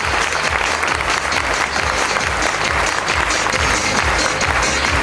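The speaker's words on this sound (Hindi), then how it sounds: "एक बार इन महागुरुओं के लिए प्लीज जोरदार तालियां" Dense, steady applause from a large audience at a live seminar fills the whole stretch, many hands clapping at once in a loud, continuous wash with no pauses.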